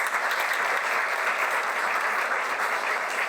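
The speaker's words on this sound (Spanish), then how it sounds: "pido un fuerte aplauso" Strong, steady applause from an audience at a magazine launch event, a dense even wash of clapping that holds at one level throughout without pause.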